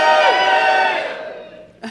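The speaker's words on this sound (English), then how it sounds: "Scream. Everybody scream." A live audience at a Toronto tech-show taping screams and cheers together in a loud, sustained burst that gradually fades, ending with a brief renewed shout.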